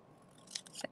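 Scissors snip pieces of paper for a bird-on-a-wire collage, two or three quick, faint, close cuts in a quiet room.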